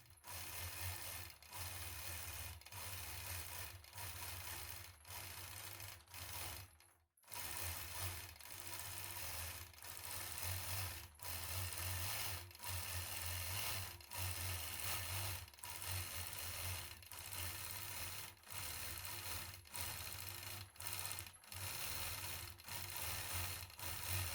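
A sewing machine free-motion quilting feathers around a curved line on a quilt block: a fast, steady mechanical stitching chatter in continuous runs, with one brief pause near the middle, close and heard alone.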